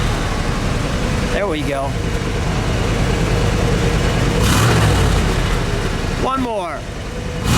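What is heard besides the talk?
1965 Buick Wildcat 401 engine idling and revving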